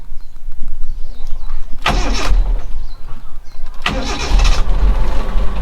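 A 1.4 petrol car engine cranks over with the ignition key in two broad bursts, near and loud, against a steady low background hum.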